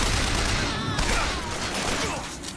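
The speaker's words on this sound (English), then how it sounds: "Wow, this machine gun is very accurate" Rapid gunfire from a machine gun in the video game Bioshock Infinite, a dense continuous burst of shots mixed with game effects, with a voice talking over it.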